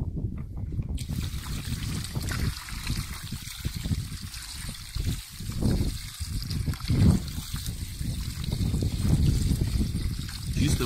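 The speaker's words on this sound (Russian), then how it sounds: "Снова заливаем чистой водой." Clean water pours steadily into a container of bracken fern for salting, a continuous splashing trickle that rises and falls, close by and fairly loud.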